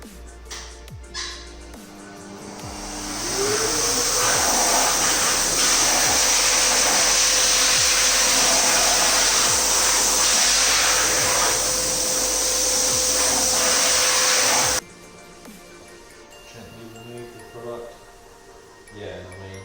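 A machine polisher with a pad spins up and whirs steadily for about eleven seconds while polishing the painted spoiler of a Porsche 911 Turbo, then cuts off abruptly, with faint talking before and after.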